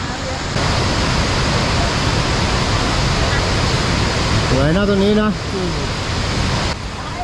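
Khlong Lan waterfall in Thailand, full after the rains, gives off a constant heavy roar, with a person briefly speaking over it partway through.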